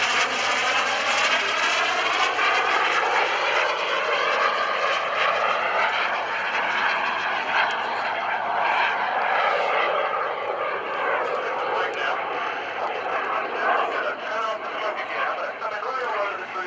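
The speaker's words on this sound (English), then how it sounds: "He's going to bring this FLS Microjet down from the right-hand side." A loud, continuous jet engine roar with a shifting whine as an FLS Microjet flies past right to left at a 2013 airshow, steady throughout.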